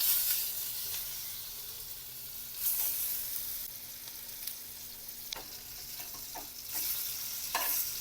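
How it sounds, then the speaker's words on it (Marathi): Coriander vadi shallow-frying in a small amount of hot oil, a continuous close sizzle and hiss with occasional spatula scrapes and light clicks against the pan. "मी जास्त तेल नाही घालणार आहे थोडं थोडं तेल घालून तळून घेते"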